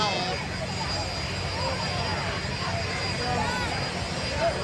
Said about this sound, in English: Jets going at us.